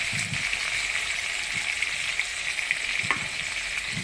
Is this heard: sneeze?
no